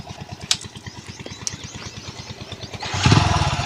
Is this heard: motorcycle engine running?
yes